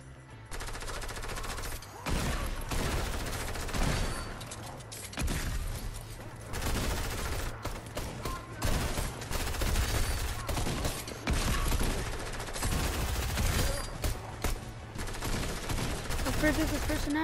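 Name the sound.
gunfire in a video game shooter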